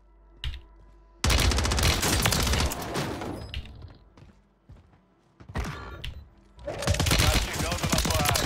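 Loud bursts of automatic gunfire from a weapon in Warzone crackle in two long volleys, separated by a brief lull with scattered single shots.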